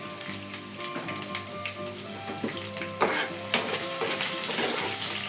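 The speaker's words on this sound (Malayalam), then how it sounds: "ഇഞ്ചി വെളുത്തുള്ളി രണ്ടും ഇട്ട് കൊടുക്കാം" Ginger and garlic sizzle steadily in hot oil with mustard seeds while a squid roast curry is cooked. A dense, even frying hiss runs throughout, with a few louder clatters and spatters of stirring near the end.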